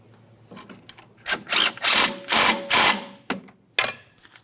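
A power tool runs in several short, loud whirring bursts while tightening a strut mounting bolt on a 2006-2012 Ford Fusion during front shock replacement, each burst separated by brief pauses.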